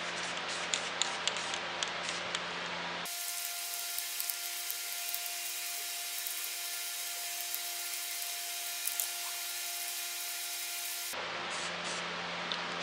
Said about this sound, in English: I'm not going to overspray much because I'm spraying inside the garage